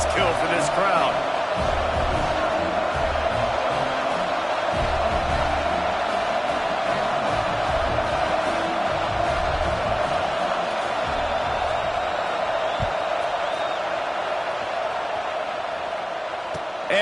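A stadium crowd in a college football video game, UCF against Ole Miss, produces a steady, continuous roar with dull thumps and occasional swells, while a commentator talks over it throughout.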